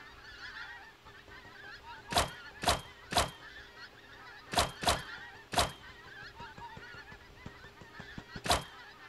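Birds in a mobile video game give sharp honks, about seven loud, brief calls spaced irregularly over a faint, steady game background with no voices.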